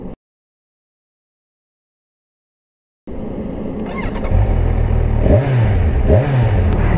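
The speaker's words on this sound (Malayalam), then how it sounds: "ഞാൻ ആക്ച്വലി ന്യൂട്രലിട്ട് റബ് ചെയ്യുന്ന സമയത്തൊക്കെ ഇത്രയും റബ് ചെയ്യാറുള്ളൂ" A 2022 Kawasaki Ninja 1000SX is revved in neutral: after about three seconds of silence the engine roars in loud and close, rising and falling through several sharp throttle blips.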